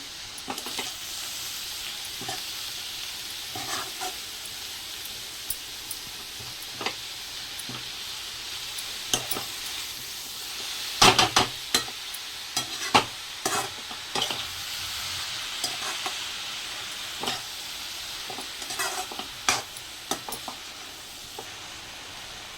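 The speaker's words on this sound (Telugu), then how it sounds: "ఇవన్నీ మంచిగా కలిసేటట్టు అయితే ఇక మిక్స్ చేసుకుందాం మళ్ళీ" Cabbage and chana dal curry with turmeric and ginger paste is stirred in a pan over a soft, steady sizzle. A utensil scrapes and clicks against the pan repeatedly, with a flurry of sharper knocks near the middle.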